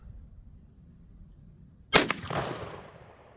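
A single loud shotgun blast from a .410 firing Winchester Super X 000 buckshot through an improved cylinder choke, a sharp crack with a quick echo and a fading outdoor rumble after quiet ambient noise.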